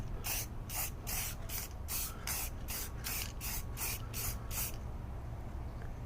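Rust-Oleum metallic spray paint hissing from a can onto a cosplay sword, about a dozen short bursts in a quick regular rhythm, then quiet.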